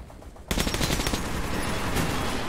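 After a half-second of quiet, a sustained burst of rapid suppressed shots from the video game Metro 2033 starts abruptly and continues steadily to the end, loud and close.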